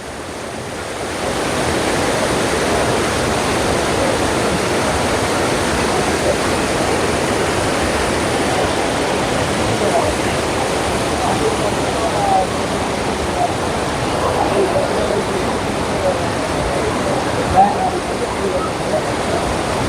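Floodwater rushes out of Vellalapuram lake after heavy rain, a loud, steady roar of churning water that runs unbroken and close from start to finish.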